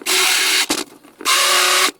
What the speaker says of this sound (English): we need to countersink the 2 mounting holes